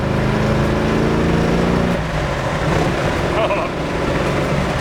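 A 1969 Ford Mustang Mach 1 with a 390 engine and 4-speed manual runs close and loud, its engine note steady and then dropping in pitch as a gear change comes through, with a voice talking over it.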